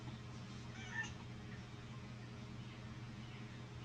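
A cat in Minecraft RTX gives a single short meow near the one-second mark over a steady, droning game background.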